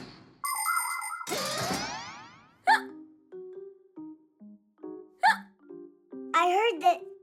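A cartoon character hiccups in a children's animated show: short, bouncy hiccup bursts come at intervals among springy effects and tonal chimes, with a childlike voice also present.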